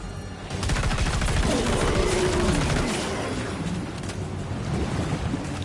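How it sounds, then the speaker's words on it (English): Sustained assault rifle fire in the video game Death Stranding 2, a dense stream of rapid shots that builds after a brief pause and then eases off slightly, heard over a low watery ambience. "I gotta switch to the assault rifle."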